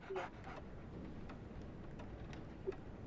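Soft, quick breathy panting from a dog in the video game Sherlock Holmes The Awakened, brief and faint over a low, steady ambient hum, with no speech.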